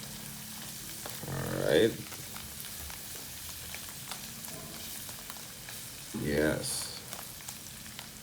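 Mushroom carbonara sauce sizzles softly in a pan while being stirred, with two louder scraping stir bursts spaced several seconds apart over a quiet steady fry; a person briefly speaks.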